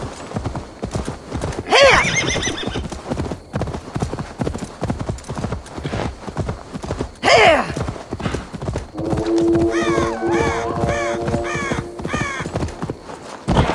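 In Assassin's Creed Valhalla, a mount's hooves clop in a rapid galloping rhythm throughout, broken by two loud whinnies and a longer neigh near the end, with crows cawing in the background.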